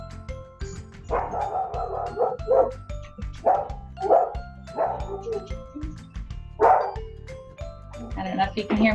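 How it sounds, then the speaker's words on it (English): Several pet dogs bark repeatedly at a home, somewhat muffled and in the background, scattered yips and woofs continuing beneath a person talking throughout. "I don't know if you can hear my dogs barking."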